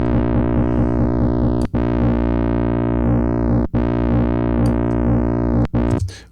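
FM8 synthesizer tone holding sustained notes with an automatic wobble, its harmonics pulsing in a steady rhythm and sweeping up and down, loud and alone, with brief breaks between three repeated phrases.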